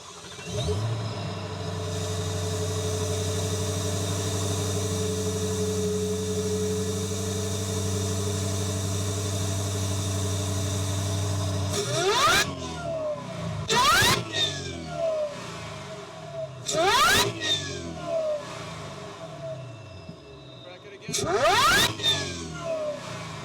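A car engine idles with a steady, loud hum, then revs sharply several times, each rev rising and dropping back, close by with no talking.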